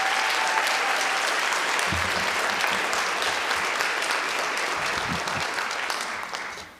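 A crowd at a Black History Month music program claps steadily and loudly for several seconds before the applause begins to fade at the end.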